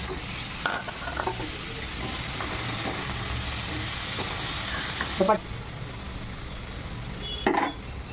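Onion, garlic and ginger sizzle steadily in a hot pan, with occasional scraping and clinks of a spoon stirring the ingredients.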